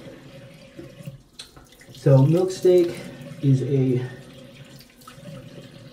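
Tap water runs into a sink to soak a shaving brush, a steady hiss beneath someone talking throughout.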